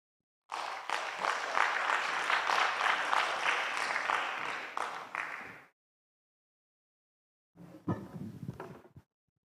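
Conference audience applauding at a music and performing arts event: a loud burst of clapping for about five seconds, then silence, then a second shorter round.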